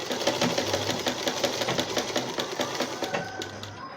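A sewing machine stitches the shoulder seam of a baby frock with a brisk, regular mechanical whir and rapid ticking. The sound is close and continuous throughout, and no one speaks.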